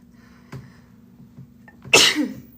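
A single loud, sharp sneeze bursts out after a few small soft noises, close by and otherwise quiet.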